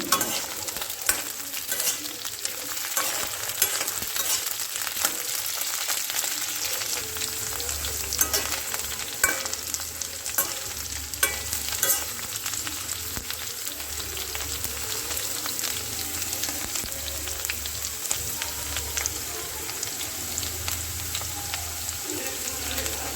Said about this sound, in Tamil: லைட்டாக ஹீட் ஆனதுமே வெண்டைக்காயெல்லாம் போட்டு ஃப்ரை பண்ணி எடுத்துக்கலாம்